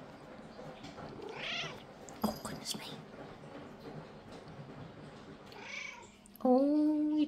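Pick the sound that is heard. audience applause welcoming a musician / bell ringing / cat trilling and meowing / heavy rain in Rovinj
cat trilling and meowing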